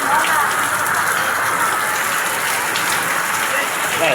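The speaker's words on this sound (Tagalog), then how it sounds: "Umuulan pa rin eh." Steady, dense rain hissing loudly and continuously, a heavy flooding downpour close by with no pauses.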